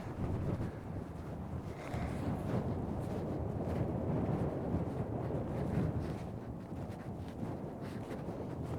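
Winter wind blustering outdoors in Ennis, Montana, buffeting a microphone in steady rough gusts, close and fairly loud, with no talk.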